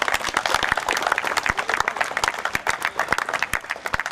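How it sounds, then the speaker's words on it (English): Crowd applause from students gathered at a hostel celebration, dense overlapping claps with sharp individual hand strikes standing out, steady and fairly loud throughout. "Let's have a big round of applause for them."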